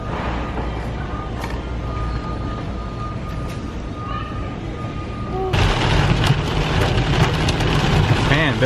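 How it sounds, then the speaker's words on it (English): Rain and hail beat down steadily in a dense, loud patter, with the downpour growing noticeably heavier and harsher partway through. "a bit of a hailstorm and a rain today"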